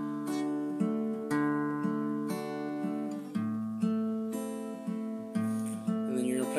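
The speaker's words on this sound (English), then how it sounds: "To the chorus, you don't do the hammer on the D anymore, so it's gonna sound like this." Acoustic-style guitar strumming the chorus of a song, a steady chord pattern with regular strums roughly every half second, moderately loud and alone with no voices.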